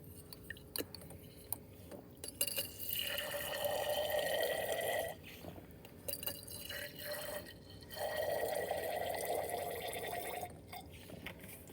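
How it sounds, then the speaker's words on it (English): Water pours into containers holding iron, copper and zinc in two separate streams of a few seconds each, with a steady gurgling fill and small clinks in between. "I'm going to put some water in each of these."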